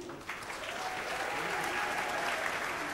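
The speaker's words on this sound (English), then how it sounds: "Ladies and gentlemen, a round of applause once again." Audience applause at a formal ceremony where a French Legion of Honour knighthood is being conferred, a steady dense wash of clapping from a large crowd that holds evenly for the whole three seconds, with no voices over it.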